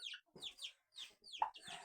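Soft, high peeping chirps from turkey poults come in short bursts with brief pauses, close by, with a low cluck from the turkey hen mixed in.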